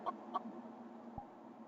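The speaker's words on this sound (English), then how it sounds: "Only had one interaction with the chickens so far." Soft clucking of chickens in a VR roleplay game, two short clucks close together followed by quieter low murmuring, faint and brief.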